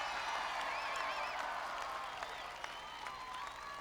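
Dense crowd applause with cheering from an audience at a 1996 Bill Clinton political rally in Dyersburg, Tennessee, sustained and full, easing slightly toward the end.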